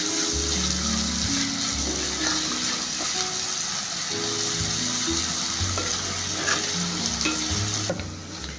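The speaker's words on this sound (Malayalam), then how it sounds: "രണ്ട് പച്ചമുളക് നീളത്തിലരിഞ്ഞത് ഒരു ടീസ്പൂൺ ഉപ്പും കൂടി ചേർത്തിട്ട് ഇളക്കി ഇതിൻ്റെ പച്ചമണം മാറുന്നവരേക്കും ഇളക്കൊണ്ടിരിക്കുന്നത്" Green chillies sliced lengthwise and salt frying in a pan, stirred continuously, with a loud close sizzle and repeated scraping strokes of a spoon throughout, for a Kerala-style tilapia chilli curry.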